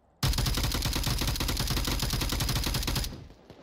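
Sustained automatic gunfire in the VR shooter Onward during a competitive match, one loud unbroken burst of rapid shots lasting about three seconds, close and dominant, then cutting off into quiet.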